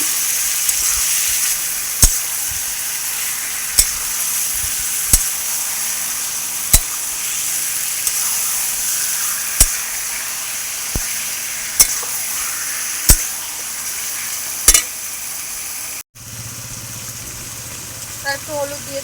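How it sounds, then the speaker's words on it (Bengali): Marinated duck meat sizzles with fried onions in a pan, giving a loud, steady hiss broken by regular sharp clinks from stirring. The sound cuts out briefly near the end and returns quieter. "পেঁয়াজটা ভাজা ভাজা হয়ে গিয়েছে, এবার ম্যারিনেট করা মাংসটা দিয়ে দেবো।"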